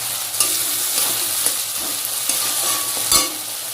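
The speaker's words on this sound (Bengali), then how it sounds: "এবার দিয়ে দিলাম ক্যাপসিকাম আর কাঁচা লঙ্কা কুচি" Chopped capsicum and green chillies fry in oily masala with a loud, steady close sizzle and a few faint stirring knocks, and no one talks.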